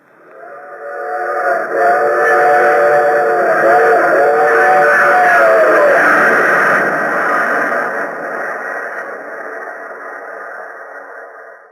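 A train sound effect for a radio drama about a colonel boarding at Washington: a loud, close whistle wails in wavering tones over a heavy, steady rumble of wheels that swells and then gradually fades.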